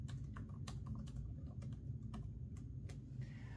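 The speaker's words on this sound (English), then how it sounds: "Let me test out how the keyboard feels." Keys clatter on an Acer Aspire 16 laptop keyboard in a steady run of close, crisp clicks over a constant low background hum, with no talking.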